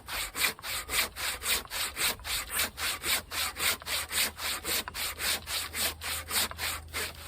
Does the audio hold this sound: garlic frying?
no